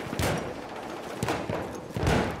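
Gunfire in the video game Battlefield 1: three bursts of booming shots and rattling fire, heavy and close, over a constant noisy battlefield background.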